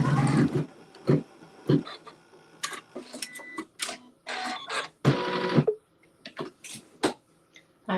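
A sewing machine stitching a tack-down stitch on a quilt with neutral thread, running in short loud bursts separated by pauses, close up and alone.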